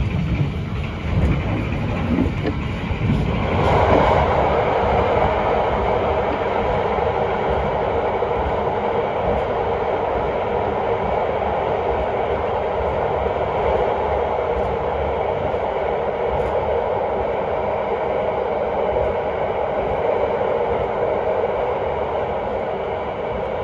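An Argo Semeru executive-class passenger train rolls steadily along with a loud, constant rumble and rush, a sharp shift in tone a few seconds in as it enters a tunnel, then a sustained enclosed roar.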